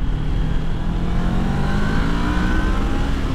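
A twin-cylinder motorcycle engine pulls hard in third gear, its steady, loud drone rising slowly in pitch as speed builds, heard up close with wind noise and no talk.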